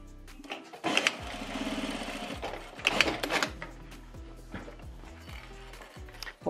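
A home sewing machine topstitches fabric scraps for a quick Easter craft, running in several short, close bursts of rapid mechanical stitching separated by brief pauses.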